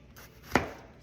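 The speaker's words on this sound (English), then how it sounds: "I'm going to go ahead and slice up my tomato." A single crisp knife cut through a tomato on a board, one short near chop in an otherwise quiet kitchen.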